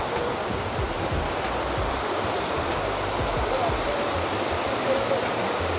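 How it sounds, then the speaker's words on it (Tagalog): Shifen Waterfall in Taiwan roars as a broad, steady rush of falling water, loud and unbroken throughout, with faint voices barely surfacing beneath it. "So guys, welcome sa Shifen Waterfall."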